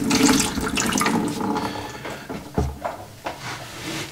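Water tipped from a container into a sink during outdoor garden tap installation, a loud splashing pour for about two seconds, then fading into trickles and small knocks.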